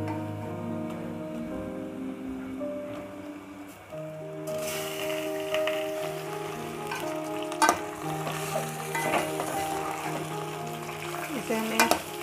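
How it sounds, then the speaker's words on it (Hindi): Chicken frying over a high flame in a pan with lightly browned onions, a steady loud sizzle that rises sharply partway through as the meat goes in, with occasional stirring clatter and utensil knocks. "इसे हमें हाई फ्लेम पे कुछ देर फ्राई करेंगे हम चिकन को।"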